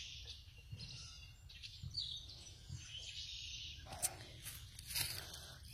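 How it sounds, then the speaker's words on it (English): Small birds chirp and tweet intermittently outdoors, faint and scattered over a low background rumble. "Being able to sit out here, watch birds, listen to them."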